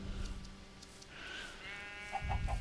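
Sheep bleating in the video game Minecraft, a few short nasal bleats over faint background game noise, fairly close and without talking.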